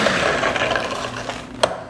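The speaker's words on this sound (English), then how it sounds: "Now, back to the mixer." An electric hand mixer whirs steadily through jumbo blueberry muffin batter, a continuous mid-pitched motor drone with faint rubbing texture and one brief sharp knock near the end.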